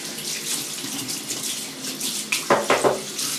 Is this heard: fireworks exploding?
no